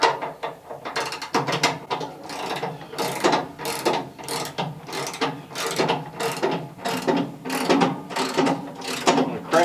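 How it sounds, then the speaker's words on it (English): Tension on a WoodMizer sawmill blade is cranked up with a ratcheting handle, giving a steady run of close, loud mechanical clicks and ratchet rasps for the whole stretch. "we got to tension the blade up before we do anything"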